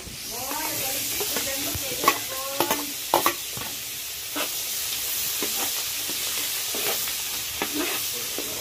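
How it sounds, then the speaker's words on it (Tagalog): Garlic sizzles in melted butter in a pan for buttered shrimp, a continuous near frying hiss broken by stirring scrapes and a few clinks, with faint brief voices in the background. "Hintayin muna natin matunaw yung butter. At ilagay na po natin yung bawang."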